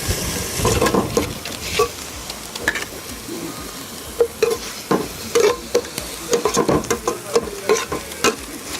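Chopped onions and fresh tomato sizzle and hiss in a lightly oiled pan while being stirred, with repeated scraping and clinking strokes of the utensil throughout.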